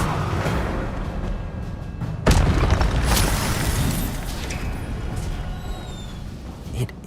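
Incendio fire spell in Hogwarts Legacy bursts into a sudden loud whooshing blast, followed by a crackling, rumbling roar that slowly fades, with a smaller pop near the end.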